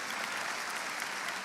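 Church congregation applause during a sermon, a dense, even wash of clapping at moderate distance without voices, sustained throughout.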